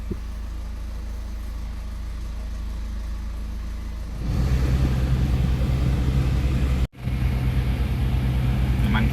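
A BMW 525d diesel engine idles steadily just after an oil change, a close, even low rumble that grows louder partway through and cuts out for an instant before resuming.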